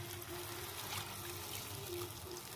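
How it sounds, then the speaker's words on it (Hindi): A full cup of water is poured into a pot of moong dal fritter gravy, a quiet, steady trickling splash that runs for a couple of seconds with no talking. "ये हमने एक कप पूरा भर के पानी लिया है और इसको हम इसमें डाल देंगे।"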